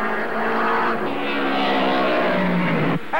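1950s Formula One racing cars roar past at the Nurburgring during the 1957 German Grand Prix, a loud, continuous engine howl with shifting pitch that cuts off abruptly near the end.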